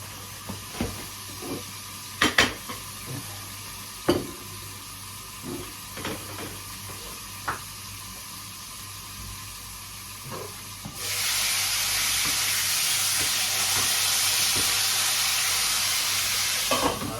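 Pork chops frying in oil, with scattered sharp pops and spatters over a quiet background, then the sizzle suddenly swells into a loud, steady hiss that carries on to the end.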